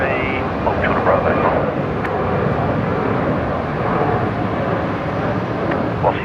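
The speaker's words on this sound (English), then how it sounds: "There's a Fokker departing there somewhere" A Fokker airliner departing Brisbane Airport at night, heard as a steady, broad, distant engine rumble and roar that holds through the whole stretch with no clear rise or fall.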